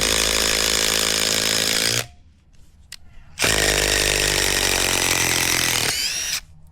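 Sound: Makita DTD173 and Dnipro-M DTD-201BC impact drivers driving a screw

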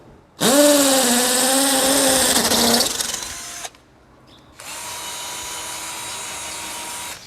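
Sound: cordless drill drilling another hole

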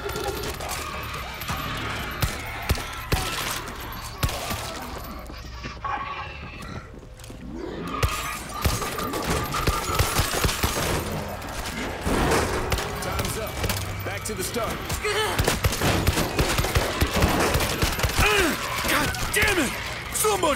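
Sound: gunfire in the video game World War Z

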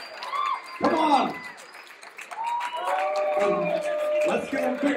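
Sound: wedding guests applauding the couple

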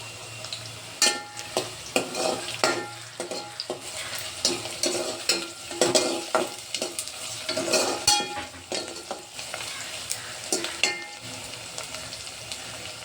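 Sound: bay leaf and curry leaves sizzling in pan, chicken rassa

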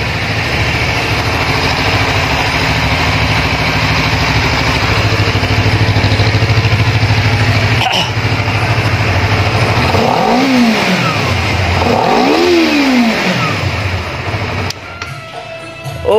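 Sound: motorcycle engine idling and revving

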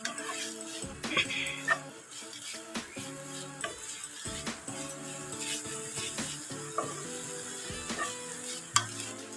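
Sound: sautéing drumstick leaves with coconut in a pan

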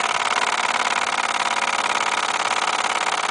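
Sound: Mamod model James Watt steam beam engine running

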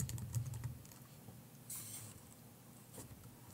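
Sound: typing a layer name on a computer keyboard

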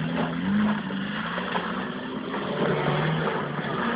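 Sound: Skoda 120 rally car engine braking

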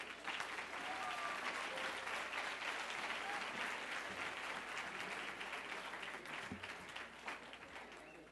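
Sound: applause

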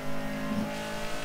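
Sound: car engine sound in a racing video game

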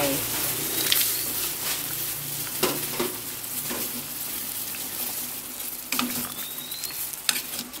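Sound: bitter gourd added to pot of braising pork

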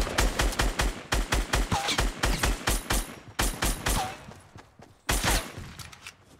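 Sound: gunfire in the video game Fortnite

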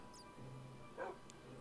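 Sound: dog whimpering in a survival video game

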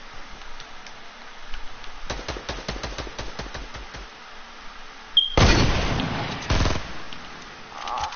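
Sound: hunting rifle gunfire in a video game

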